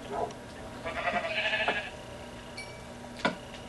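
Sheep bleat in a game world, several calls close together: a brief call, then a longer wavering bleat, then a quieter call and one short sharp bleat at the end, over a low steady background hum.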